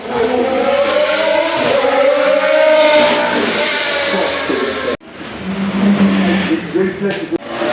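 A Lamborghini supercar accelerates hard at the Goodwood Festival of Speed, a loud rising engine howl climbing through the gears, then a second burst of engine roar nearby with crowd noise.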